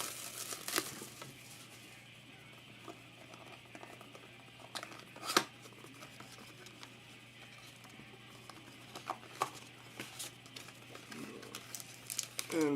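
A silver cellophane pack from a 2008 Topps Letterman football hobby box crinkles and crackles up close as it is handled, in irregular bursts with a few sharper crackles.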